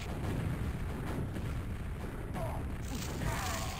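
A rocket detonates in QuakeWorld, a deep rumbling boom spread across the whole short stretch, loud and dense, with a sharper burst near the end amid ongoing game noise.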